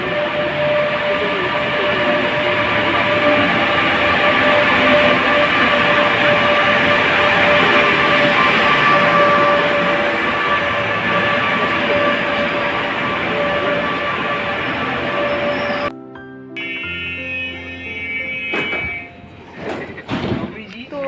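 An express train at a station in Italy, a loud steady rumble of wheels and carriages that holds for about fifteen seconds, then breaks off into quieter clatter and shifting noises as it comes to a stop.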